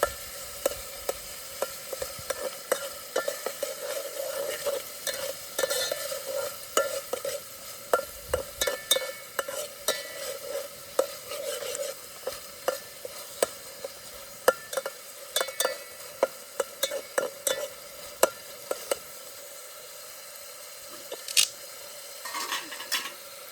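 Onion and tomato fry for a crab curry while a spoon repeatedly clinks and scrapes against the pan in irregular sharp taps over a quiet, steady sizzle.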